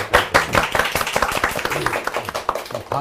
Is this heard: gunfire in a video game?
no